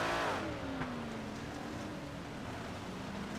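Big Block Modified race car engine heard from an onboard camera, a loud sustained roar with a falling pitch sweep, then a steady drone near the mic with no talk.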